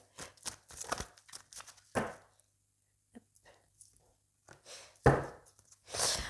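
A tarot card deck being shuffled: short, faint papery riffles and flicks in quick bursts, a long quiet gap, then another burst of card rustling near the end.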